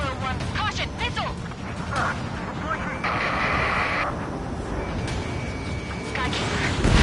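Missile warning and incoming strike during an Ace Combat 7 aerial dogfight: continuous roaring jet and explosion noise with a steady tone, under clipped radio chatter throughout.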